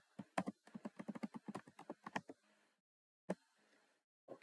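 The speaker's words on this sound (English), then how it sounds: "I'm going to type here sudo Wireshark" Quiet, close typing on a computer keyboard entering a terminal command, a quick run of irregular key clicks, a pause, then a single final keystroke.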